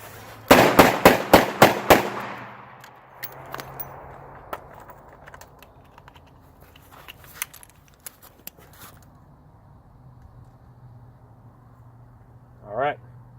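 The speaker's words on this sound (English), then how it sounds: "I'm going to go for that concealed draw and fire rapid fire." A Smith & Wesson 586 revolver fires 125 grain magnum rounds in a rapid string of about six loud, sharp, close shots, followed by quieter clicks and handling noises.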